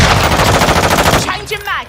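Rapid automatic gunfire in a military shooter video game, a loud, dense rattle of bursts up close that breaks off near the end as a brief shout comes through.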